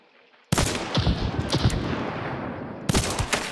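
Gunfire in Hunt: Showdown erupts suddenly after near silence, a loud close volley of rapid repeated shots with echoing tail, then a second burst of shots near the end.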